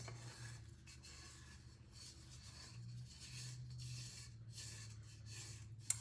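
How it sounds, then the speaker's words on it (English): A spatula scrapes the sides of a bowl of Instant Pot fudge brownie batter, giving soft, continuous rasping and rubbing strokes, close but quiet, with no voices. "Going to go ahead and scrape the side of my bowls"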